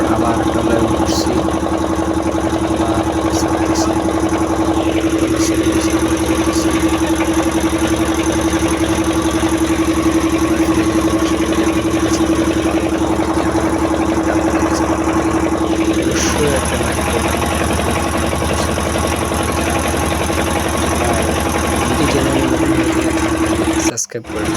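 A trawler engine runs steadily on the Shitalakshya river, a loud, continuous drone with a constant hum that holds from start to finish and cuts out abruptly at the very end.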